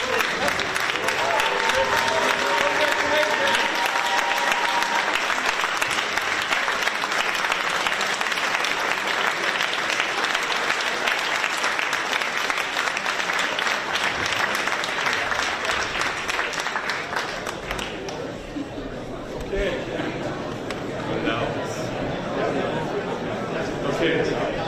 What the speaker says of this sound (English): a big round of applause for the entire TAC team that has made this happen